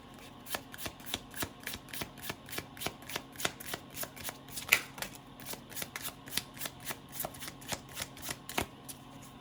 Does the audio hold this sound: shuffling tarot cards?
yes